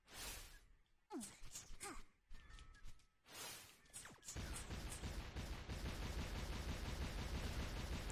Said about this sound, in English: That's a very rhythmic way of exploding.